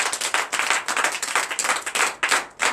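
A church congregation at a morning prayer service claps in acclamation, a loud, dense, rhythmic wash of many hands beating in uneven pulses, close and continuous.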